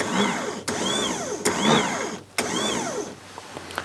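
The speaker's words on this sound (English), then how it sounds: "the motor, I can show you that real quick, does still work" An electric camper van motor runs in repeated whirring cycles, each rising and falling in pitch and broken by short clicks, steady and close.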